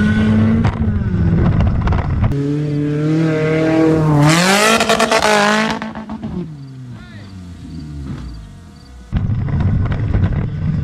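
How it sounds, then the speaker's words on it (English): An Acura car revving hard during a car jump: a loud engine climbs steeply to a screaming peak, then drops and rumbles on unevenly before the engine roars loudly again, close to the listener. "Final car jump of the day."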